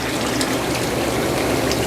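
Water pouring steadily from the waterfall feature of an Arctic Spas Tundra seven-person hot tub, a continuous close splashing rush with no break and no voices.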